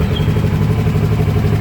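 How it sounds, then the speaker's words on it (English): A motorcycle engine idles steadily with a low, even chugging rumble, close and loud, with no talk over it. "you can see the engine starts very smooth"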